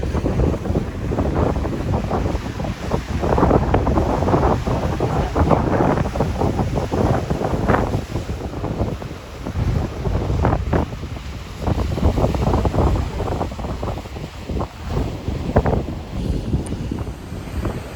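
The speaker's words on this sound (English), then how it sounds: "it's a little windy out here today. It actually got windier once I got out here on the beach." Gusty wind on a beach at Washington Oaks Gardens State Park, Palm Coast, Florida, buffets the microphone with a steady low roar, rising and falling in strong bursts, with surf faintly underneath and no voices.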